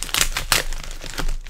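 Plastic packaging around a Koro Sensei figure is torn and crinkled by hand, giving a close series of sharp crackling rips and rustles over about a second and a half.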